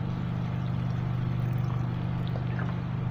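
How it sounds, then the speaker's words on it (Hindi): Water pours steadily onto jade plant cuttings in a pot, a continuous splashing rush over a low hum, close and unbroken. "ठीक है, ये पानी भी डाल दिया मैंने।"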